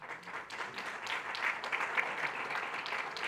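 Audience applause at a public lecture, a steady wash of many hands clapping at moderate distance, sustained evenly throughout without a clear start or stop.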